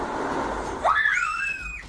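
A girl's sharp, high scream of fright rises suddenly and holds for about a second, loud and close, while the girls react to dolls that twist their heads around.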